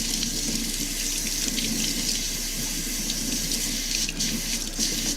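A running water tap streams steadily into a sink as soap is rinsed off hands, a continuous close splashing hiss with no talk over it.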